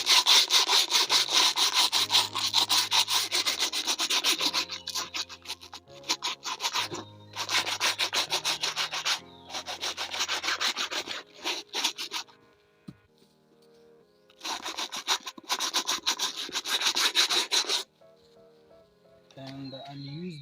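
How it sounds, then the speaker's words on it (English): A brush scrubs Air Force sneakers coated in foam cleaner, a close, rasping back-and-forth scrubbing in several bursts separated by short pauses, with brief quiet gaps and a little soft speech near the end. "I'm going to use this brush"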